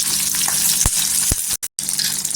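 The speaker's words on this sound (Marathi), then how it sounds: "तेलावर आहे ना मिरच्या टाकायच्या" Mild green chillies sizzle loudly in hot oil on an iron griddle, a steady close crackling hiss with a couple of sharp pops and a brief cut-out near the end, with no voices.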